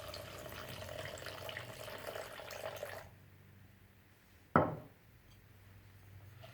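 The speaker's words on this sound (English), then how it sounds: "now to this glue I am going to add twice the water by weight" Water poured into a batch of hide glue, about 100 grams of water over 50 grams of glue, runs as a steady close splashing stream for roughly three seconds, then stops; a single sharp knock follows in the quieter aftermath.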